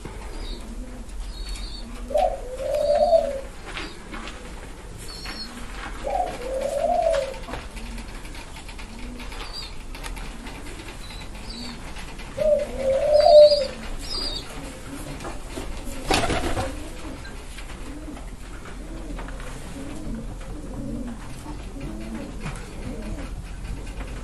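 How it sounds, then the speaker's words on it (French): Two turtle doves at a home aviary alongside pigeons and rabbits give soft, low cooing phrases in a few spaced bouts, with faint chirps and background noise between them. "2 tourterelles"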